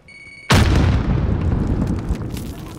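Frag grenade detonating in Call of Duty: Modern Warfare, a single sudden deep boom that erupts after a brief quiet beep and rumbles on loudly for a couple of seconds, with no talk over it.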